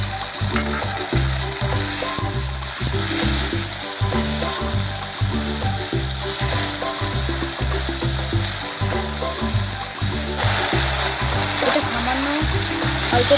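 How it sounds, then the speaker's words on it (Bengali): Onion, ginger and garlic paste fries in a pan for a chicken curry, a steady loud sizzle with rhythmic scraping and stirring strokes running throughout, no talking. "এর মধ্যে দিয়ে দেব পেঁয়াজ আদা রসুনের পেস্ট"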